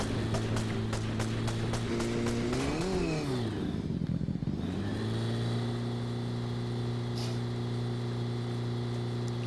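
The Akira motorcycle in Fortnite runs with a steady, droning engine hum that dips and surges once, then settles back to an even cruise, loud and continuous amid game clatter.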